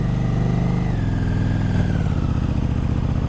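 Motorcycle fitted with a Vandemon full exhaust system, riding on the road with a steady, loud engine drone that drops slightly in pitch as it shifts, heard alone without talk.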